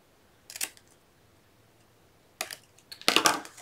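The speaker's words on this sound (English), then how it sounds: "So we're going to cut up the score line, cut off 1/2." Scissors cut along the score line of a cardboard tea box in short, crisp snips: one alone, then a pause, then a quick cluster of louder crunching cuts, close up in a quiet room with no talking.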